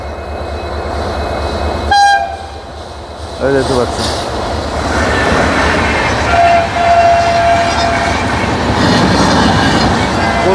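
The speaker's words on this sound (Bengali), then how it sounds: "এটা কোন ট্রেন? এটা এক্সপ্রেস ট্রেন" An express train, the Kolkata–Dibrugarh Express, passes close by on a railway track, with a horn blast, a loud rumble and rhythmic wheel clatter and squeal, while a person speaks briefly over it.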